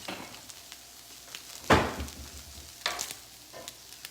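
Turkey bacon sizzles quietly in a frying pan, with a sharp scrape or clatter of a utensil midway and a few softer scuffs after it.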